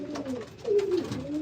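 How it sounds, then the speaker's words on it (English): Racing pigeons in a loft give soft, throaty coos, a couple of rolling calls rising and falling close by against a quiet background. "Yeah, you hear the old birds"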